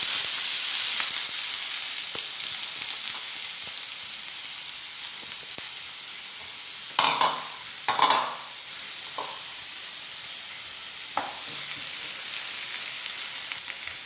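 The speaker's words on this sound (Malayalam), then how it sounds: "എണ്ണ നന്നായിട്ട് ചൂടായി വരുമ്പോൾ അതിലേക്ക് അരിഞ്ഞു വച്ചിരിക്കുന്ന സവോള ചേർത്ത് കൊടുക്കാം" Chopped onion sizzling in hot coconut oil in a pan, a steady loud frying hiss throughout with a few stirring scrapes and clatters in the middle, no talk.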